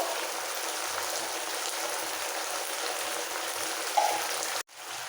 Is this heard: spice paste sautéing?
yes